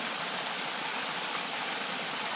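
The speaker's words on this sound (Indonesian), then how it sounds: "sekarang sudah nyampe persawahan kawan dengan air gemericik seperti ini" Clear water gurgling and flowing through irrigated rice fields, a steady close rushing hiss with no pauses, no one speaking.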